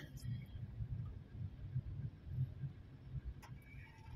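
Heavy but slow-moving street traffic in Santa Mesa, Manila, on a rainy day: a steady, muffled low rumble of engines that swells and fades, with no clear horns or voices.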